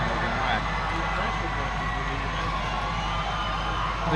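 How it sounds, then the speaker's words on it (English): Football crowd at a Bradley Central varsity game against Science Hill cheering after a touchdown, a steady distant roar of fans under an announcer's voice. "Fans are going crazy."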